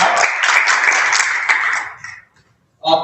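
A round of applause at a school board of education meeting, broadband clapping from the room that fades out toward the end, followed by a brief burst of noise.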